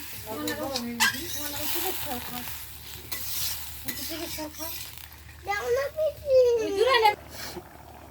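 Chicken kosha sizzles and hisses in a pan as water goes in, a close, steady frying crackle with stirring scrapes, under a voice speaking throughout.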